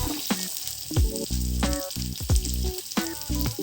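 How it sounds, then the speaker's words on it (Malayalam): Mustard seeds popping in hot oil with shallots, chillies and cumin for shahi paneer, a close, steady sizzle broken by sharp crackles and spatters and a few stirring scrapes, no voices. "കടുക് പൊട്ടി വരുന്നുണ്ട്. ചുമന്നുള്ളി ഇട്ട് കൊടുക്കാം."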